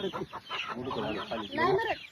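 A village hen clucks in short, repeated bursts close by, its calls overlapping with a person talking in the background.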